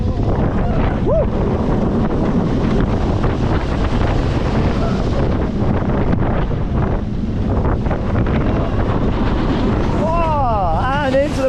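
Onboard the Cheetah Hunt launched roller coaster at Busch Gardens Tampa, a loud, steady rush of wind roars throughout, with brief rising whistle-like tones near the end.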